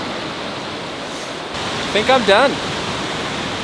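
River waterfall roaring as a steady, full wash of white noise throughout, with someone speaking briefly over it near the end.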